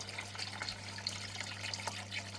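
Water trickles and splashes steadily through a micro sluice washing old mouldy gold paydirt with garnets, a soft continuous running flow with small drips, close by and fairly quiet over a low steady hum.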